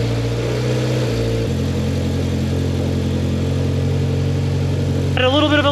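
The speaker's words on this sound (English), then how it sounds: "I should just be able to crank the car up now" A Mitsubishi Evo X with an E85 flex fuel setup idles in a garage with a steady, loud engine hum that shifts pitch and settles, then a rising whine comes in at the end.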